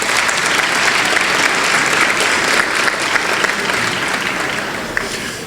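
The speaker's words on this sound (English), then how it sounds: "a big round of applause for all the volunteers earlier today" An audience at a business gala and awards evening gives a sustained round of applause for the volunteers, loud and even, tapering slightly toward the end.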